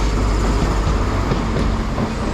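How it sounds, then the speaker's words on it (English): Great Western Railway train pulling into a station platform, a steady loud low rumble of wheels and engine with faint rail clatter, no voices. "the 1849 Great Western Railway service to Penzance from Bristol Temple Meads is here"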